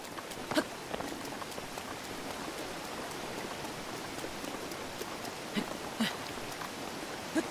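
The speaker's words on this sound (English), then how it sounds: "you can't really climb that well in the rain" Steady rain falls in The Legend of Zelda: Breath of the Wild as an even, hissing patter with scattered louder droplet taps, continuous and fairly soft throughout.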